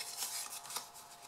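Folded paper is burnished flat with soft, quiet rubbing strokes, a few brief scraping passes close up with no voices.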